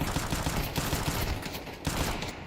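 Pistol fire in a Counter-Strike-style esports match in the ESL Challenger League, a dense burst of overlapping shots and game noise running continuously for a couple of seconds, fairly loud and without talk.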